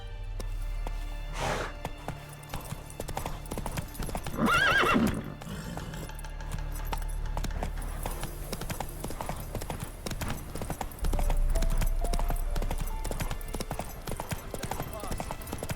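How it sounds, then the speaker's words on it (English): A horse in the video game The Witcher 3 gallops with steady, rapid hoofbeats and lets out a loud neigh partway through, while someone speaks over the running. "Come on, Roach. Giddy up"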